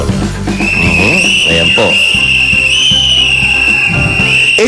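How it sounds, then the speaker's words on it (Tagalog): A loud, shrill whistle holds one steady, sustained blast, demonstrating a signal for help. Voices and background noise sound underneath, and someone speaks briefly. "Pag oras na kailangan ng tulong, tandaan, 3 mahabang sipol."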